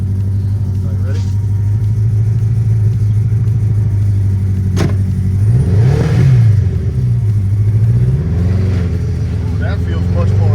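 A homemade, sketchy-built golf cart drives along in gear, its engine giving a steady low rumble that rises and falls slightly as it moves, close and loud throughout, with people talking over it.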